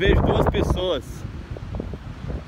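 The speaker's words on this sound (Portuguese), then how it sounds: "Parece o barulho do vento aí" Wind blows across the beach at Praia Grande in Brazil on a cold early morning, a low steady rumble of buffeting against the microphone after someone speaks briefly.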